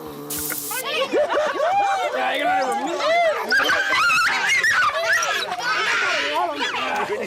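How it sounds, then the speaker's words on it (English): Many dogs in a remote Aboriginal village in Australia bark, yelp and whimper in an overlapping chorus, fairly close, with children's voices and chatter mixed in. "There's more dogs than people in the village."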